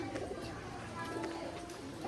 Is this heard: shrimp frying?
no